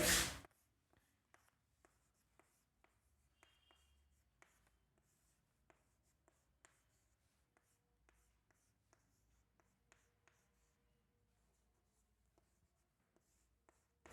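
A pen scratches out a trigonometry formula on paper in short, quiet ticks and strokes spread evenly over a near-silent background, after a brief loud bump at the start.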